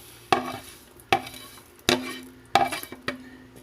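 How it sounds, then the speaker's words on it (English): A utensil scrapes chopped onions and carrots from a pot lid into a cooking pot, giving four or five sharp, close scraping clinks spaced about a second apart, each trailing off quickly. "Use it to scrape my onions and my carrots in there."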